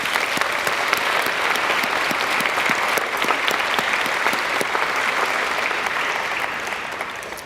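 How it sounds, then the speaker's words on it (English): A large audience at a high school graduation ceremony in Azusa Pacific claps steadily in a broad, sustained wash of applause that fades slightly toward the end. "Please join me in a warm round of applause for Dr."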